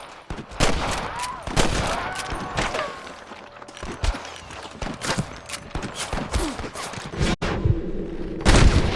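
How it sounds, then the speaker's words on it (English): Video game gunfire in Red Dead Redemption, a dense, loud volley of rifle and pistol shots cracking in rapid irregular bursts, with galloping hooves beneath and shouting voices in between. "I can hear more gunshots."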